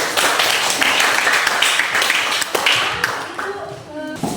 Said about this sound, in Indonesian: Tepuk tangan untuk teman kita ya.